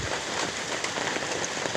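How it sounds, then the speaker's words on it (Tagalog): Heavy rain pours down, a loud, close, steady hiss of drops drumming on surfaces with no let-up and no voices. "Ang lakas ng ulan."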